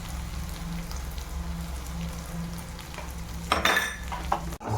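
Spice masala for Kathiyawadi kadhi khichdi steadily sizzles and fries in a pan while being stirred, with a continuous crackling hiss, scraping spoon strokes and a few louder clinks of metal against the pan near the end.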